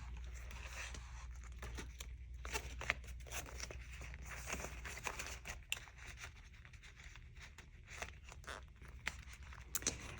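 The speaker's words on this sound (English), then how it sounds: "If I can get this envelope open." A paper envelope is torn open at close range, giving irregular crinkling and ripping bursts with rustling that runs through the whole stretch.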